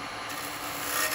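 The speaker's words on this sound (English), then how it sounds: "So as long as I ride that bevel and I get all these lovely shavings flying everywhere." Steady rubbing, rasping scrape of a carbide chisel cutting a spalted beech bowl on a woodturning lathe, riding the bevel with shavings flying; a continuous close, moderate hiss that swells slightly near the end, no voices.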